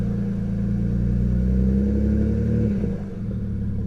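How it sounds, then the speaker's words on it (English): A nearby BMW E90 N52 inline-six engine, with newly replaced fuel injectors, hums steadily and climbs in a light rev before dropping back down toward idle. "So now we're going to go ahead and give it some light revs."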